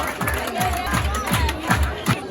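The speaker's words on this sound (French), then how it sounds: "Sous vos applaudissements, mesdames et messieurs." Audience applause and crowd noise at a school cultural performance event, a dense continuous wash of clapping and cheering, fairly loud, with a few voices mixed in.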